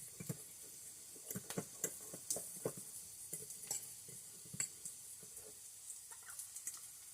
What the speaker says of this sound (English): And stirring the onions again, just so they don't burn.